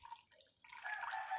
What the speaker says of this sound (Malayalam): കുറച്ച് ചിക്കൻ്റെ കഷ്ണത്തിലിട്ടാൽ ബോയിൽ ചെയ്യാനുള്ള കുറച്ച് വാട്ടർ നമുക്ക് ആഡ് ചെയ്ത് കൊടുക്കാം